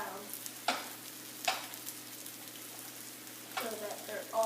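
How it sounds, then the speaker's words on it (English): Food is stirred in a pan to coat it with brown sugar, cinnamon and nutmeg, giving a few soft scraping strokes over a faint steady sizzle, quiet and close. "Now we're just going to mix it"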